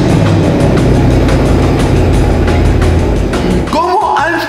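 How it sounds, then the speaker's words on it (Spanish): A car engine runs loud and close with a steady rumbling idle, and near the end a voice speaks over it. "Voy a enseñarte cómo suena este coche"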